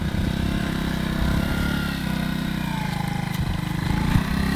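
A vehicle engine stuck on a road running steadily at a rough mid-pitched idle and revving slightly, close by and continuous, with no talk during it.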